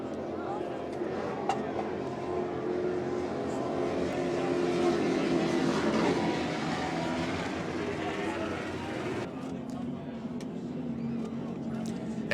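A Sheds Plus racing powerboat with Chief engines roars past, a broad, loud and sustained engine drone that swells toward the middle, with a commentator talking over it throughout.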